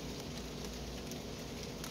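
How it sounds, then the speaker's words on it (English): Rain falls steadily outdoors on a warm day, a continuous broadband hiss of drops with no pauses and no talk, moderately quiet and even throughout. "that rain's coming down"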